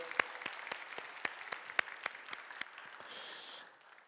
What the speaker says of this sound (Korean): 우리 꿈삭을 위해서 다시 한번 박수 하시죠.